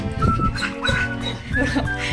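Several dogs yelping and howling together, high wavering cries overlapping in a close, busy chorus.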